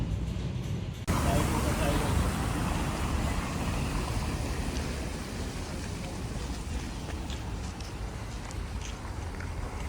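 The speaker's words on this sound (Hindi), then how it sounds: "यहाँ पे तो बारिश स्टार्ट हो गई है" Dense, steady hiss of rain falling, starting abruptly after a second and continuing evenly, with a faint voice beneath.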